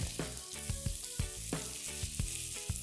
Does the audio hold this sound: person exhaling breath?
no